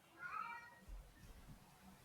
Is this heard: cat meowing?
yes